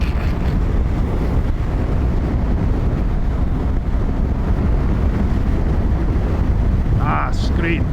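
Loud, constant wind roars and buffets against the microphone throughout a ride on a BMW R1300GS motorcycle, with a brief voice near the end.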